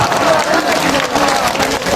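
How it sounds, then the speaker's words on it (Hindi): A crowd at an NDA election rally in Chhatapur, Bihar applauds loudly for Nitish Kumar, a dense, steady wash of clapping and crowd noise lasting about two seconds. "इसलिए एक बार नीतीश कुमार के नाम से जोर से ताली बजाइए"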